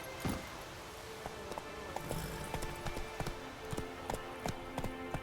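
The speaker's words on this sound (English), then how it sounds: "You're looking to put Roach into stables? Yeah, this is where horse go" Hooves of the horse Roach from The Witcher 3 video game clip-clop on the ground in an uneven trotting rhythm, moderately close, with other game sounds in the background.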